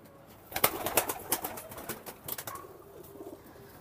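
Rampuri pigeons coo softly nearby amid a flurry of fluttering wing flaps and scuffling, busiest in the middle, then settling down.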